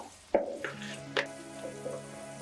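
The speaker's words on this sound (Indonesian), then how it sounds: "goreng bakwan jagung dengan cara disendok seperti ini" Corn fritters sizzle steadily in hot oil with a few sharp clinks and taps of a spoon against a pan, no voices.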